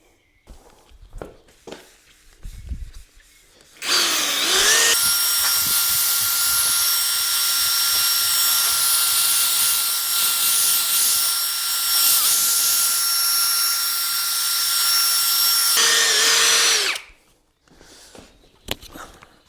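A power drill fitted with a polishing pad works on a large faded car headlight lens during restoration, running as one loud, steady whine for about twelve seconds, with brief handling noises before and after.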